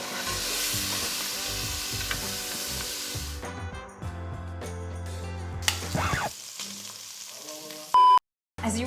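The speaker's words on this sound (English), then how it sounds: "I'm gonna take back out the meat to make sure to brown it in here first" Beef pieces browning in about a tablespoon of cooking oil for a beef biryani or pilau, a steady sizzle for the first few seconds, then quieter crackling with stirring, a brief clatter and a short dropout near the end.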